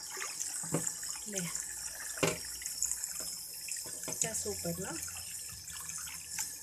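Tap water runs into a kitchen sink while raw chicken wings are rinsed under it, a steady splashing stream with clatters and handling knocks as someone talks over it.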